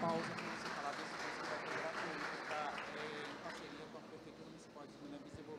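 Audience applause for a business award winner at a ceremony, steady clapping from a crowd heard under and around an announcer's voice, gradually thinning.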